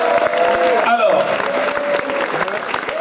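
A crowd at a French gala evening, the Bal des quenelles, applauds steadily with dense clapping throughout, while a voice rings out and some crowd noise rises over the hands.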